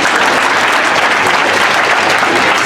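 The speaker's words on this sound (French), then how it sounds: "Sous vos applaudissements, s'il vous plaît." Dense, sustained applause from the audience at a vin d'honneur reception, steady and loud throughout with no pauses and no talk over it.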